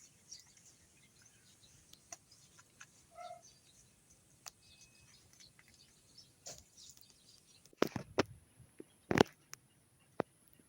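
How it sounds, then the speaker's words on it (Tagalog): Birds in a rural provincial field in the afternoon give faint, scattered chirps and tweets, sparse and distant, against a quiet outdoor background with a few louder nearby knocks. "Ayan ang daming mga ibon sa bukid"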